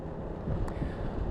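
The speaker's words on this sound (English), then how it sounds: "which is probably why I'm getting buffeted by the wind so much" Wind buffets a rider on a Piaggio MP3 three-wheeled maxi scooter, a continuous low, blustery rumble against the microphone with no other sound standing out.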